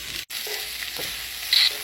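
Sliced smoked wild turkey sizzles with grilled onions in a pan, a soft steady frying hiss with a brief stirring scrape near the end, and no one speaking.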